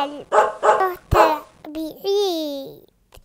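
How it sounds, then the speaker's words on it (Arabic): A sick dog in a park gives three quick, close barks followed by a long, drawn-out whining yelp, with a child babbling nearby. "صوت الكلب"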